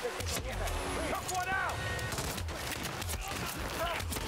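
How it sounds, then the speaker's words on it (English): Rapid assault rifle fire crackles in Hitman 3, sounding as repeated sharp bursts over a busy background, with some voice-like sounds mixed into the game noise. "That felt like an assault rifle."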